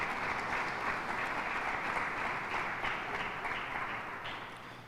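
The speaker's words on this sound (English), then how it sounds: "A round of applause for all the community-based organizations" Audience at a governor's public safety press conference claps steadily for community-based organizations, a sustained, even round of applause that fades slightly toward the end, somewhat distant in the room.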